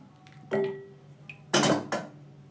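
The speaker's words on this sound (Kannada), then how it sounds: "ಸೊಪ್ಪನ್ನು ಸ್ವಲ್ಪ ಸ್ನ್ಯಾಶ್ ಮಾಡ್ಕೊಳ್ಳೋಣ ಈ ಥರ ತಿರುಗಿಸಿದ್ರೆ ನುಣ್ಣಗಾಗುತ್ತೆ" Cooked honagone greens being mashed in a metal pot, giving a few sharp clanks and scrapes of a utensil against the pot, close and sparse over a quiet background.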